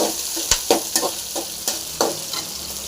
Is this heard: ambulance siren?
no